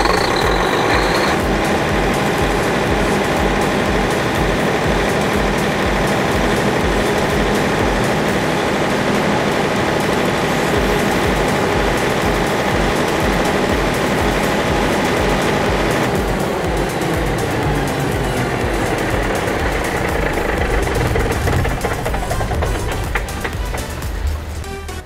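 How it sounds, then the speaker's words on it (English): Generator engine starting and then running at idle, a loud continuous mechanical drone with a steady pulsing rhythm that shifts character partway through. "So I will start the generator now."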